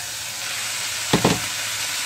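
Bean sprouts and carrots hit a hot pan and sizzle for vegetable lumpia, with a soft steady frying hiss and a couple of brief louder crackles as the vegetables are added.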